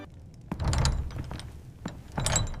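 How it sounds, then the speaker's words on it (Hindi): A door is pushed shut with a couple of dull thunks and a creaking rattle, heard nearby and clearly. "फिर दरवाजा बंद कर दें"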